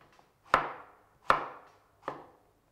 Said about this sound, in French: Là, je coupe en petits cubes, c'est pour aller plus vite.